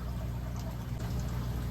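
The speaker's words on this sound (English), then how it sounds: "All you gotta do to get all that gel and perlite off is just give it a little rinse right here in the water" A plant's roots are rinsed in nano aquarium tank water to shed gel and perlite, giving a soft, continuous low sloshing and trickling of water, quiet and close, with no voices.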